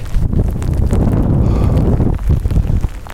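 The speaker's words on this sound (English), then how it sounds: "It's getting a little too windy" Wind buffeting an outdoor microphone on a cold, blustery day, low rumbling gusts that roar and flutter continuously, heavy and close, then breaking into choppier bursts near the end.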